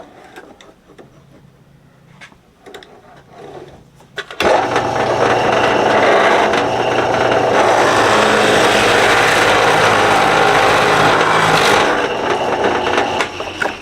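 After a few quiet seconds, a power drill whirs loudly into cedar wood, grinding steadily for several seconds before easing off.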